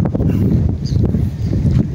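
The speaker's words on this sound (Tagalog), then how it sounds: "Mahangin kasi." Wind buffets the microphone outdoors on a riprap shore after a fishing outing, a loud, steady low rumble with gusty swells for the full two seconds and no talk.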